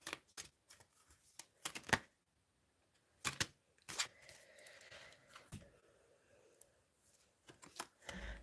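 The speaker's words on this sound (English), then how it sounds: "It's not easy to like shuffle them." A thin, squashy deck of cards is shuffled by hand, giving a few short, soft riffling bursts separated by quiet pauses, close and faint.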